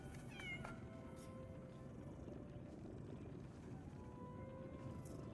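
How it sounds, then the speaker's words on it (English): A cat meows in a video game, a few short rising calls near the start over a steady dense background of ambient game sound, with a faint tone later on. "Yes, cute little kitty."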